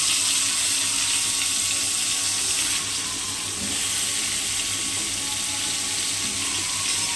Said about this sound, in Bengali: কড়াইয়ে পটল ভেজেছিলাম সেই তেলটা আছে এর মধ্যে দিয়ে দিচ্ছি আমি কুমড়ো